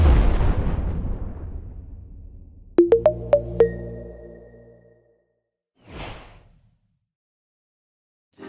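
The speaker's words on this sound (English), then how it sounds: "So, here's an explosion." A big rumbling explosion that decays over a few seconds into a series of sharp metallic ringing hits, followed by a softer whoosh and silence, as a sound effect for a Cinema 4D R21 preview.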